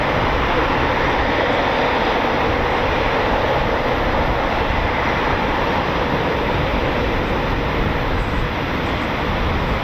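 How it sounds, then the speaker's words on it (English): A Eurofighter Typhoon FGR4 jet of 41 Squadron making a performance takeoff at RAF Coningsby, a loud, steady broadband engine roar that holds at full strength throughout without pause. "That was a lovely performance takeoff."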